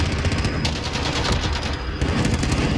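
Sustained PKM and SA87 machine-gun fire in a video game, loud, dense automatic bursts rattling continuously with only brief gaps.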